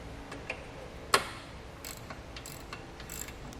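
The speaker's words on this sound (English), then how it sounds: "Now we'll take a socket and wrench and tighten down our hardware." A socket and wrench tighten hardware on a steel ATV winch mount, giving a few faint, soft ratcheting ticks and one sharper metallic click over low background noise.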